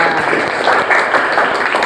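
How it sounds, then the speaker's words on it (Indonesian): Classroom applause from a group of students, a steady dense patter of clapping lasting about two seconds at close range, with voices mixed in. "Tepuk tangan, nilainya sudah bagus semua"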